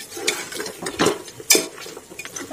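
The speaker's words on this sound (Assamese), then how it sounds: "এনেকৈ আমি 2 মিনিট মান ভাজি লওঁ" A utensil stirs and scrapes around a pan as salted mutton pieces fry for a restaurant-style Assamese mutton curry, giving a few sharp clanks and scrapes over a faint sizzle, close and alone.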